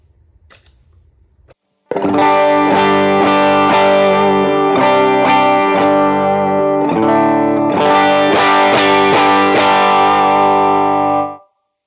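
Clean electric guitar into an amp with a compressor pedal engaged, after a quiet lead-in: a run of strummed chords at an even, slightly louder level for about ten seconds before cutting off, no talking.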